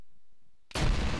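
A grenade explodes in a capture-the-flag video game match: after near silence with faint low rumbles, a sudden loud boom bursts in and keeps roaring to the end.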